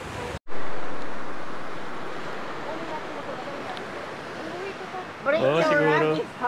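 Strong ocean waves and surf at a beach in Lian, Batangas, a loud continuous wash with wind buffeting the microphone, and people talking briefly near the end.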